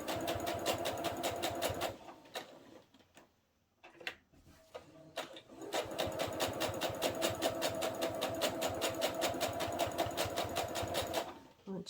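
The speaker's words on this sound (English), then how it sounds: "And I'm just going to stitch the whole way around." A sewing machine stitches around fabric with mitered corners, a rapid, steady mechanical ticking close by. It stops briefly for a couple of seconds, then runs on evenly with no talking.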